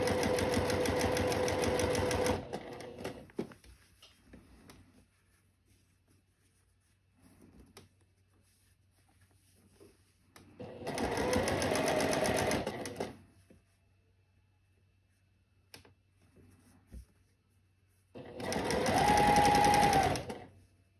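Sewing machine running a seam on a floral sundress in three loud bursts of rapid stitching, each about two to three seconds long, separated by quiet pauses with faint handling clicks.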